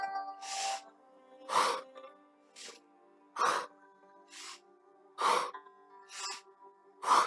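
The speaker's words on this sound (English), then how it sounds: "Powerful rhythmic breathing." Powerful rhythmic breathing during a workout, with forceful breaths repeating roughly every second, close and clear, over a faint steady tonal background.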